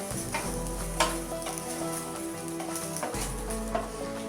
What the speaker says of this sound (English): now I'm going to add the chopped ones and fry them